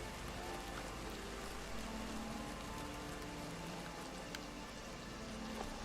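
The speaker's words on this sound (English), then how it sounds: "it usually typically rains here a lot." Steady rain in the game Oblivion Remastered around Leyawiin, a dense, even hiss of falling drops with faint scattered patters, continuous and unbroken throughout.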